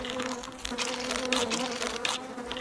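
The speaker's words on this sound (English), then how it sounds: "So Brenda being chased by bees." Bees chase the player in the survival video game Don't Starve Together, making a dense, close insect buzz that drones steadily without a break.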